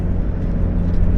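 A big-turbo Ford Focus ST engine drones loudly and steadily from inside the car, a low, dense rumble filling the cabin throughout.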